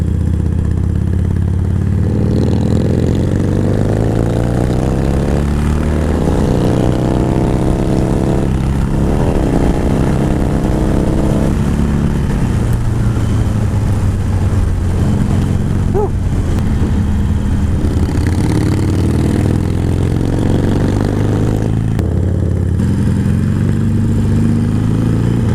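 Yamaha Bolt C-Spec motorcycle engine riding along, loud and continuous with rising and falling pitch as the rider works through the gears, wind noise over it.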